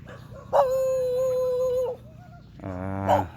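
A dog lets out a long, drawn howl, then after a short pause gives a higher whining yelp, close and clear with no talking.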